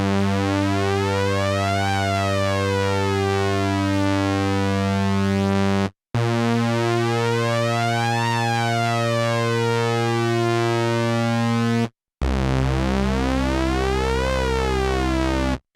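Cherry Audio Mercury-8 synthesizer, a Jupiter-8 style software synth, playing a sustained sync sweep in three loud passes, harmonics rising and falling in a repeating arc, with short gaps between, no voices.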